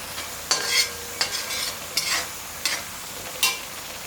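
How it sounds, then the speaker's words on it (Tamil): Tomatoes sauté in oil in a pan under a steady soft sizzle, with a spoon stirring and scraping in regular strokes about every half second to second. "இந்த தக்காளியோட பச்சை வாசம் போகிற அளவுக்கு நல்லா வதங்கிடணும்"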